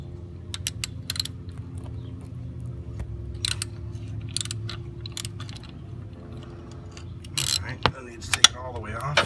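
A 3/8-inch drive ratchet with an extension loosens a bolt on a Ford Ranger 2.3 four-cylinder engine, giving quiet, irregular clicking bursts against a low steady background hum.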